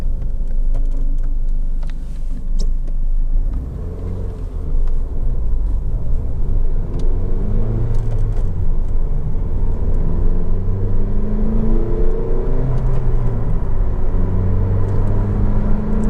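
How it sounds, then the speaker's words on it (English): A Honda Civic 1.8 i-VTEC ES five-door hatchback drives along, heard from inside the cabin as a steady engine hum and road rumble, with the engine pitch rising and falling through gear changes and no talk over it. "The engine just sounds fantastic, I have to say, it really does."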